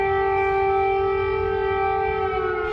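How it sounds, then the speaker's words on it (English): A loud, sustained air raid siren in Kyiv during the Russian invasion of Ukraine wails steadily with a rich harmonic tone, holding nearly constant pitch throughout. "Residents in the capital woke up to the sound of repeated sirens."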